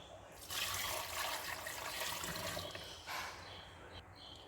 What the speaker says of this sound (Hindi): तकरीबन इसमें मैंने 4 गिलास पानी डाला है